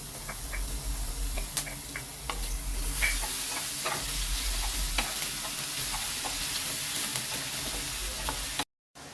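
Ginger, chili and garlic paste sizzling in hot oil with cumin seeds for veg dum biryani, a steady close frying hiss with occasional light pops and spoon scrapes, ending in a brief cut to silence.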